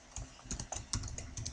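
Rapid, close keystrokes on a computer keyboard while HTML for a registration form is typed, a steady patter of distinct clicks with no speech.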